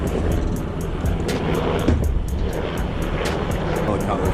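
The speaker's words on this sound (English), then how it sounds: "This helicopter has been circling for like the past 10 minutes." A helicopter circles overhead during a Dodge Ram 1500 tonneau cover repair, its steady rotor drone filling the background with a rapid pulsing chop, fairly loud and continuous outdoors.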